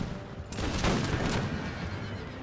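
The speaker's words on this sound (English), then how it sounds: "now the Minutemen are returning fire over there on the right flank" Minutemen fire muskets in an American Revolution battle game, a ragged volley of overlapping booming shots that bursts in and rumbles on as a dense, loud roar of battle.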